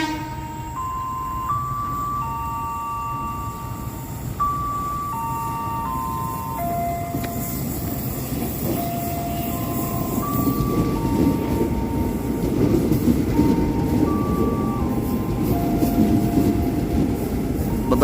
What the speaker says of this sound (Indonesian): KRL yang kita tunggu-tunggu masuk jalur 5, KRL buatan Inka.